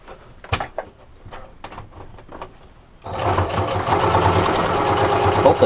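A sewing machine stitches through a microfiber sponge in a rapid, loud, continuous run after a few scattered handling knocks and clicks.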